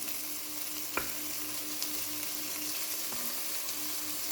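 Meatballs fry and brown in a pan with a steady, close sizzle, broken by a few sharp clicks and scrapes as they are turned.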